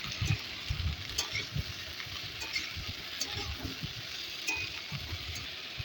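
Chopped vegetable stalks with green chilli and ginger paste sizzling in a pan for a vegetarian stalk curry, with steady frying hiss and soft, irregular stirring scrapes throughout, no voices.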